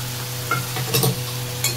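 Garlic paste stirred in a hot frying pan, a close sizzle with a few scraping strokes of a spatula against the metal.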